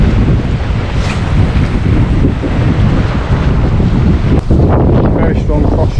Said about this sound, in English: very strong offshore wind.